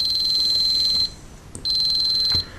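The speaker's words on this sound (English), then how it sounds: "Making a beeping noise," A multimeter on its continuity setting emits two long steady high-pitched beeps, each about a second long with a short gap between, as probes touch both ends of a coax cable's inner conductor.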